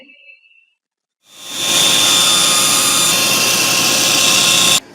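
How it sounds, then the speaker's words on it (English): A bandsaw cuts out a wooden cabriole table leg, a loud, steady whining roar that starts abruptly after a brief quiet and holds evenly for several seconds before cutting off. "now I'm going to cut out the other side on the bandsaw"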